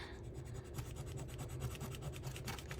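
Rubbing transfers onto junk journal paper makes a close, quiet, rhythmic scratchy rasping, with quick repeated strokes throughout the short stretch.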